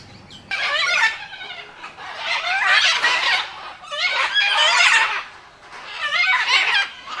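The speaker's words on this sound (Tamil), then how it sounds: "இந்த கூடு ஃபுல்லாகவே கிளிகள் தான்." Parrots crowd an aviary, their loud shrill squawks and chattering calls coming in repeated bursts of a second or two with short lulls between, close by and with no one talking.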